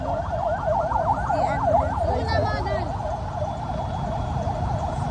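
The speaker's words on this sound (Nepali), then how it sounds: "एम्बुलेन्सको अनि फायर ब्रिगेडको यस्तो साउन्डहरू सुनेपछि चाहिँ" Wailing ambulance and fire engine sirens rise and fall continuously, several overlapping, loud and close amid traffic rumble in Pokhara, with a brief second siren pattern joining midway.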